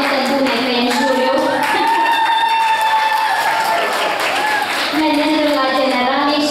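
Audience applause at a folk music festival competition in Dumbrăvița, steady clapping running the whole stretch with a voice speaking over it.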